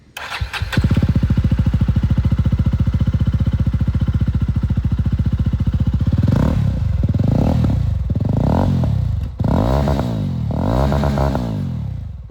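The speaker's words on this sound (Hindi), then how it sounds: "एक बार एग्जॉस्ट साउंड आप लोग इसकी सुन लीजिए" A Jawa 42 FJ motorcycle (2024) with dual exhaust starts and settles into a loud rumbling idle, then revs up and down several times in rising and falling bursts, close by.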